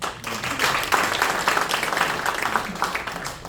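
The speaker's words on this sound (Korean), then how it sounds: "박수 한번 치십시오" Audience applause at a formal gathering where guests are invited to congratulate a bakery on a new machine: broad, steady clapping from many hands, moderately near, filling the moment with a faint murmur of voices underneath.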